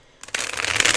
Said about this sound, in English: Let me do another shuffle, though.